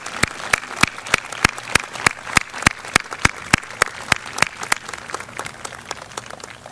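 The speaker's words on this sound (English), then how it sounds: "would all of you please join me in giving a round of applause to the veterans" A school Veterans Day assembly audience applauds veterans, a crowd clapping in a strong steady rhythm of sharp, loud claps that carries on for several seconds and thins slightly toward the end.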